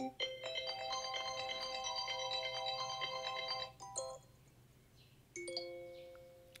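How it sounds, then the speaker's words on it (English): An iPhone notification tone, previewed as one option for FaceTime alerts. It is a bright chime-like melody of several sustained electronic tones lasting a few seconds, then a short blip and a second, fainter tone that decays. Nobody speaks. "select a notification sound for FaceTime"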